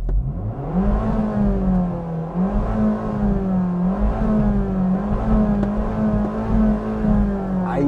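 A 2019 Abarth 595C Pista (160 PS) exhaust with active flaps rumbles and burbles at close range, its revs rising and falling in waves with a deep, throaty growl throughout.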